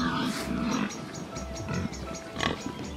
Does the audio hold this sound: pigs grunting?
yes